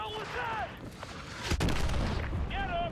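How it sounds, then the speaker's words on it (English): A missile explosion in the Call of Duty Modern Warfare 2 video game: one sharp, loud blast cuts through a busy firefight with steady gunfire, followed by a rumbling tail, while a voice talks early on. "That was a missile"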